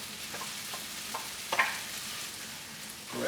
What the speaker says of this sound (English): Our pancetta goes back in.